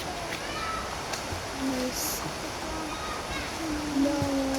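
River water flows in a steady broadband wash, with faint chirps of birds scattered over it and a brief louder swell near the end.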